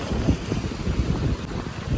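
A brisk cool sea breeze blows steadily against the microphone on rocks at a fishing harbour, producing a continuous low rumble with small gusts.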